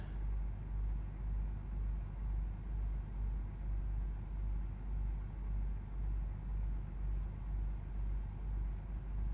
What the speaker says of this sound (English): Do like the sound of the engine on these trucks.